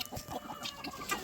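Roosters and chickens cluck softly in a cold farmyard, several short, faint clucks scattered across a brief moment.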